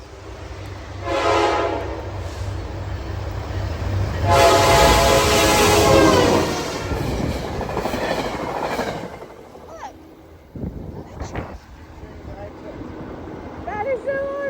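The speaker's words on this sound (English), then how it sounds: "Oh, the train is coming." A train rushes past beside the Appalachian Trail near the New York–Connecticut line, loud rumbling with blaring horn blasts that fade into a steady roar and then die off.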